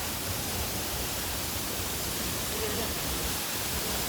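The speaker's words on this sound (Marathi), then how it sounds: "मित्रांनो, वॉटरफॉल बघा, वॉटरफॉल हा बघा." A waterfall at Raigad fort during the monsoon gives off a steady, even rush of falling water, soft and distant, with no break.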